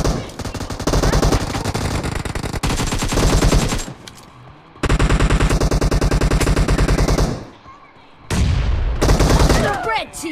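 Machine gun fire in Battlegrounds India, loud sustained automatic bursts broken by short pauses, with sharp rapid shots repeating in long runs and a brief gap of near silence before the final burst.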